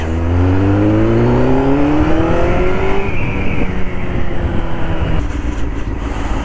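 A Honda Hornet 600 motorcycle rides through traffic, its engine revving up in a rising whine before settling into a loud, rough steady drone with wind rush close to the rider.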